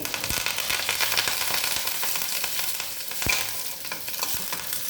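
A loud, steady sizzle of curry leaves frying in hot ghee for a tempering, crackling and popping throughout, with a few sharp spits and stirring taps.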